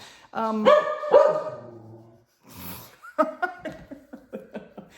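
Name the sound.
dog barking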